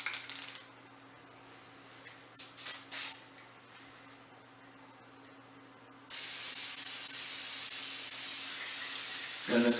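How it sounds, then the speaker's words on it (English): A can rattles with a few metallic clinks, then a loud steady hiss of spray paint starts and continues for several seconds, close by. "Then it's going to spray paint directly down on it."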